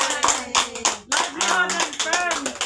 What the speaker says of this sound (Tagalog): O, palakpak naman!